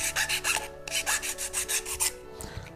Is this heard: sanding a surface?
yes